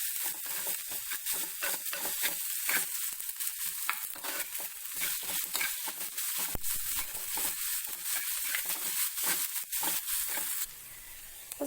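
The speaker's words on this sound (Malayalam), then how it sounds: "സവാള ഒന്ന് വഴന്ന് വരട്ടെ." Onions sizzle as they sauté in a pan for a Kerala-style pulinkari, a steady close frying hiss with repeated scraping strokes of a stirring spoon throughout.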